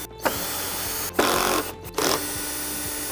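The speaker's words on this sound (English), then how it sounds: "there's 4 screws to undo, which are 2 at the back here and 2 in the handle here. So we'll undo those." A power driver undoes the screws on a Polaris Quattro Sport pool cleaner, whirring loudly in several short bursts separated by brief pauses, close to the microphone, with no talking.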